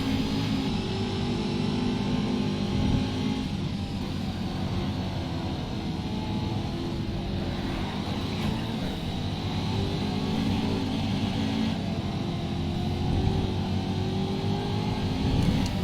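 LMP race car engine in the Race Driver: Grid video game, a sustained loud high-pitched drone held at steady revs throughout.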